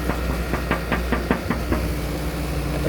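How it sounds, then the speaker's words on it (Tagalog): About a dozen quick knocks on a door in two loose bursts, sharp taps over a steady low engine-like hum, then the hum continues alone. "Kakatok ako."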